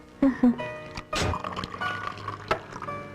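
Soda poured into a glass in an indoor room, a short fizzing, splashing pour broken by a few soft knocks, close by and fairly quiet.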